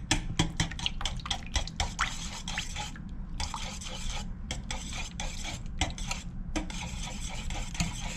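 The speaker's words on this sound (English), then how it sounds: "these are our wet ingredients, and we're going to mix this together." Wet ingredients for chocolate chip muffins being whisked in a bowl, a rapid continuous run of close clicking and scraping strokes with short pauses, no one speaking.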